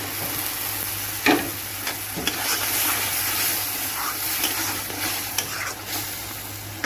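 Tomato paste goes into frying spices in a pan, giving a steady close sizzle broken by several sharp scrapes and stirring clatters, with no talk.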